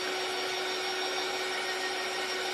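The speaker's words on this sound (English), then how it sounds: "So I'm just going to dry this a little bit." A handheld drying tool, likely a heat gun or hair dryer, blows over tissue paper layered on a handmade sign, a steady loud whir with a constant motor tone held throughout without talk.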